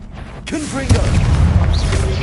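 A Confringo blasting spell goes off in a wizard video game. A voice shouts the spell, then a loud, close boom bursts and rumbles on to the end.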